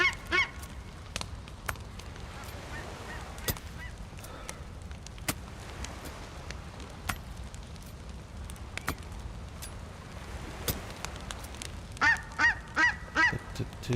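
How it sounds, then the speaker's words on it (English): Seagulls call in the Frostline survival game on Shantar island, scattered honking cries over a steady ambient bed, growing into a rapid cluster of calls near the end. "Yeah, seagulls, go away."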